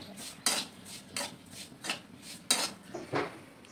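A spoon scrapes and knocks against a pan while semolina dry-roasts to a light reddish color, making a few distinct metallic clinks and scrapes spaced irregularly, close up and without talk.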